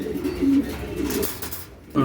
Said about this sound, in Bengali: এটি সারাসারি কবুতর, এরা সারাসারি করে বলছে